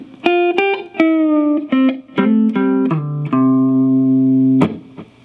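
An electric guitar plays two Memphis soul licks, a clean run of plucked notes and bends with ringing sustain, loud and close, with no talking.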